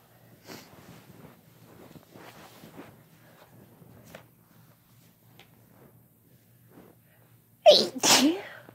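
During a sneezing fit, quiet shuffling, movement and soft breaths lead up to a single sudden, loud sneeze close by near the end.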